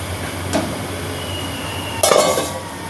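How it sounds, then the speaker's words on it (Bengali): A lid is set down onto a cooking pot of simmering vegetable sour curry with potato and taro, giving a brief metallic clatter followed by a short rattle over steady kitchen background noise. "তো চলো ঢাকা দিয়ে দিই"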